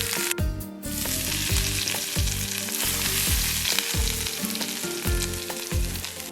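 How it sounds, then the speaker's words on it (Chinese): Boiling hot oil poured over coarse and fine chili flakes, Sichuan pepper powder, minced garlic and sesame seeds for beef noodles, giving a loud, close, continuous sizzle with crackling bursts throughout. "然后咱们给它浇上烧开的热油"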